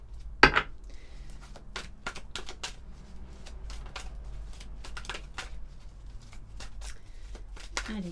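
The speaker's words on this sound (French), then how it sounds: "On va prendre quelques cartes de l'Améthyste Love." Amethyst Love oracle cards being shuffled close by: a string of crisp, papery clicks and riffles comes in irregular bursts over a low steady hum, with one sharper flutter near the start.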